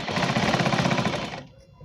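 A sewing machine stitches the panels of a four-panel petticoat, a loud, fast rhythmic chatter of needle strokes that runs steadily for over a second and then stops abruptly.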